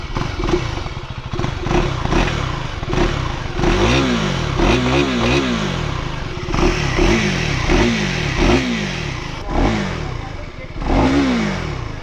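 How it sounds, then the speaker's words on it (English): A 2024 KTM Duke 390 motorcycle idles, then its exhaust is blipped in a quick series of sharp revs that rise and fall, loud and close, with mechanical clatter between the bursts. "Want to listen to the exhaust note?"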